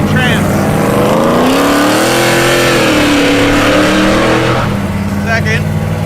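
A drag car on ice, fitted with a 3-speed shifter on a 4-speed transmission, roars loudly up through its gears, the engine pitch climbing and dipping as it shifts, with voices talking over it.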